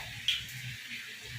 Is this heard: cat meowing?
no